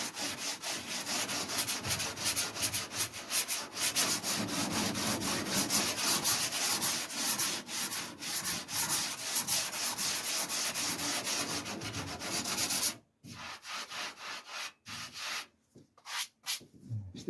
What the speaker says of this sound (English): one more sand over will get that done